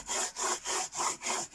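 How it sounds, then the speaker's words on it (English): A bone folder burnishes collage paper in five quick, even back-and-forth strokes, a close dry rubbing scrape with a steady rhythm. "I'm just going to burnish it a little bit with my bone folder, just to make sure it adheres well."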